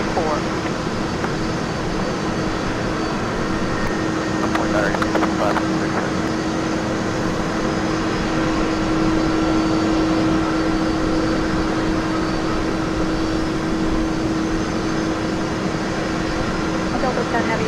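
Jet airliner engines drone steadily from a distance as a Delta heavy taxis out at Minneapolis–St. Paul airport, with a constant hum and a steady tone throughout and no break in the noise.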